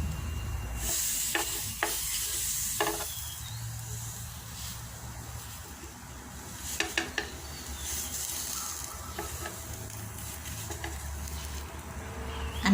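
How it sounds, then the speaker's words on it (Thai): Tofu sizzles quietly in a hot pan, with occasional scraping and tapping of a utensil against the surface. "เราก็ย่างแบบไปจนมันเหลืองนั่นแหละ"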